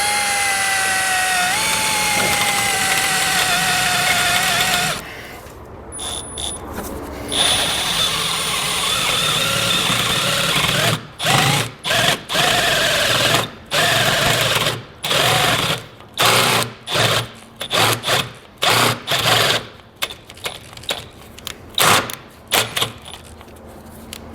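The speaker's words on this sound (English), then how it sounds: "I'm gonna go right in the middle and drill a 1/2-inch opening" A power drill bores a half-inch hole in a 2017 Jeep's car frame for a hidden trailer hitch, a steady whining hum followed by repeated short bursts of drilling with brief pauses, close and fairly loud, no talk.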